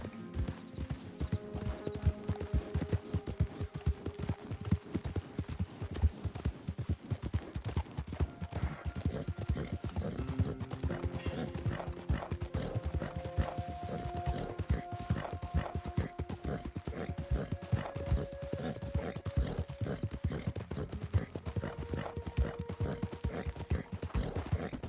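Horse hooves gallop in a steady, rapid clip-clop rhythm while riding in Red Dead Redemption 2, loud and continuous, with occasional tonal game sounds layered over the hoofbeats.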